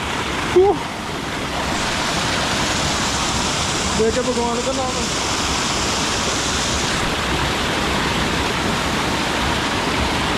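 A waterfall at Yulla Kanda roars in a steady, loud broadband rush, with someone speaking briefly over it near the start and middle.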